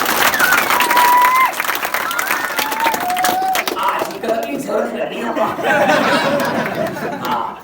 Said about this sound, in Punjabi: ਤਾੜੀ ਮਾਰ ਕੇ ਲਾਓ